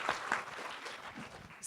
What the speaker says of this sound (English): So big applause for them for the nice Wi-Fi.